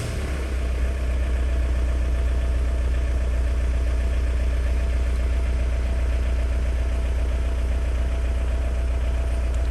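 A Volkswagen ALH 1.9-litre TDI diesel engine in a Mk4 runs steadily at idle, close by and loud, with a dense continuous rumble and faint knocking clatter throughout, no voices.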